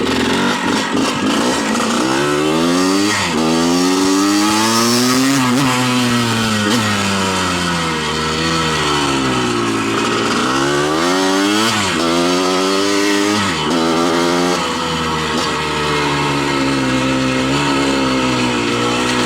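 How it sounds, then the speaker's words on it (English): A 1981 KTM 125 two-stroke motocross bike, bump started, revs hard and continuously, its buzzy engine rising and falling in pitch through repeated throttle swells, loud and near with no talk over it. "I'm going to demonstrate the bump start, which is pretty easy to do."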